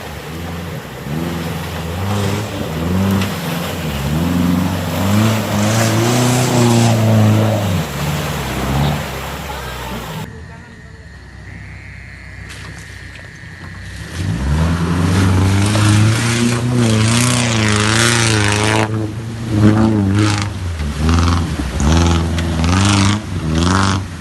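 An offroad vehicle's engine drives hard through chest-deep mud and water of the Lapindo mudflow, loud and close, with a steady revving drone that dips briefly midway before surging back to full power.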